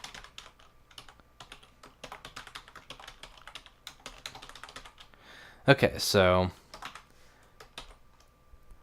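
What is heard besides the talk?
typing on a computer keyboard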